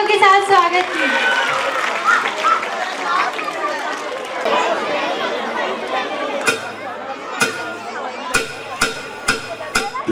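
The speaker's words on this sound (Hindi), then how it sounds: "जोरदार तालियों के साथ स्वागत कीजिए।" Clapping from an audience at a school annual function, welcoming a Class 4 performance: loud crowd applause mixed with chatter that fades, followed by a few sharp isolated claps near the end.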